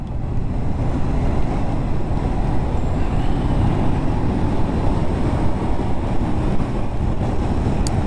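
A Honda CB500F motorcycle engine pulls under acceleration, a steady low rumble heard from the rider's position and mixed with heavy wind noise throughout, with no talking.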